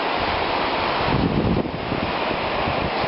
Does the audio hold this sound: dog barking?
no